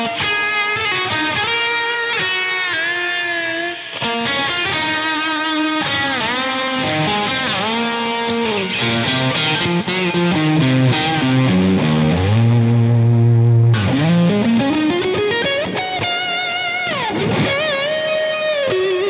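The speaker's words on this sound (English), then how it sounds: "I have one setting for ambient long reverb that sounds something like this" An electric guitar plays through an ambient long reverb preset on a Collider pedal, with sustained chords and notes washing and blending into long, shimmering tails and a swelling low chord near the end.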